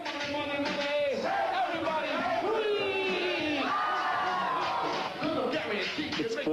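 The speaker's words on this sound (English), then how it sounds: "The crowd is still going strong" A dense crowd cheers, whoops and shouts continuously in the middle of the night, with rising and falling chant-like voices blending into a loud, steady roar throughout.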